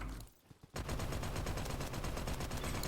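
An AK-47 in the Roblox game Bad Business fires a rapid sustained automatic burst after a short pause with a couple of single shots, each report loud and evenly spaced.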